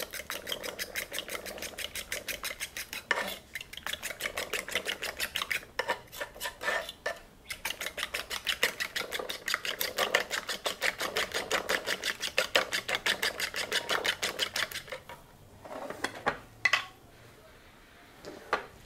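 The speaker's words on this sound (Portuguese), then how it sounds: "nós vamos bater esses 2 ovos com pimenta do reino e orégano" Eggs with black pepper and oregano are whisked in a bowl, producing a rapid, steady clatter of metal against the dish that runs almost continuously. It pauses briefly a few times, then thins out toward the end into a few scattered taps.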